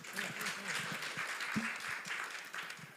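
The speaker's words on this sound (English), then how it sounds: "A round of applause for him." A live business news event's audience applauds a newly introduced stock exchange CEO, a soft, distant wash of clapping under a continuing voice.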